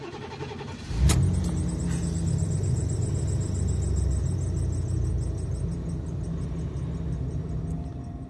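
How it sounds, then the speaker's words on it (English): A 1990 Ford Four Winds motorhome with a 460 EFI V8 and Flowmaster muffler cold-starts with a sharp crank catch, then settles into a loud, steady rumbling idle with a high whine running over it, no talking. "Let's check out this cold start."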